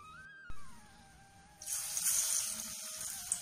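Dal vada patties go into hot oil for frying; a faint tone gives way to a sudden bright hissing sizzle that swells after a brief pause and continues, close and fairly soft.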